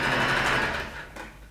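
Sewing machine running steadily as it stitches a folded swimsuit hem in stretch fabric, a close, continuous whirring buzz that eases slightly toward the end.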